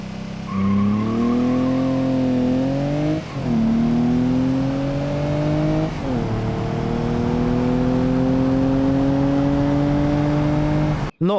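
A roofless 1994 car sprints from 0 to 100 km/h, its engine note climbing steadily through first gear, dipping at two quick gear changes, then pulling hard again, loud and close throughout with no talking.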